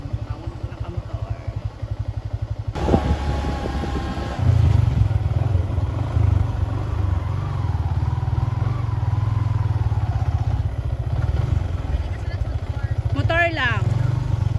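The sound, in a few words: motorcycle riding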